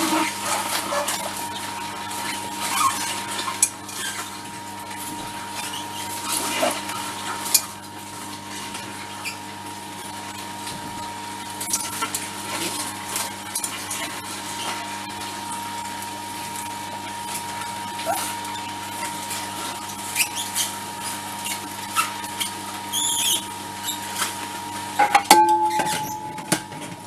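An Optimum 600 juicer whirs steadily at close range while cucumber is fed through it, with a low motor hum, light scraping and patter throughout and a brief louder clatter near the end.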